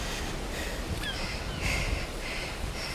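A seabird gives a couple of harsh, crow-like calls near a climber on the sea stack of the Old Man of Hoy, set against steady wind and surf noise.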